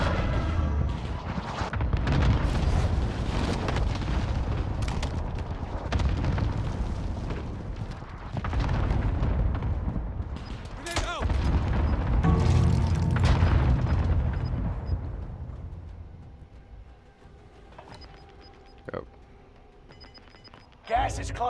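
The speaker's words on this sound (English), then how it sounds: "Enemy cluster strike." Cluster strike explosions in Call of Duty Warzone Resurgence rumble as a long run of heavy overlapping booms, loud and dense before fading to quieter game noise, with people talking throughout.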